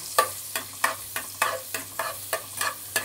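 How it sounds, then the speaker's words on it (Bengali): Butter and a little oil stirred in a frying pan for a butter prawn dish: a steady run of about nine scraping strokes in an even rhythm, close and clear over a low, faint sizzle. "এবার বাটারটাকে একটুখানি তেলের সাথে নেড়ে নেব।"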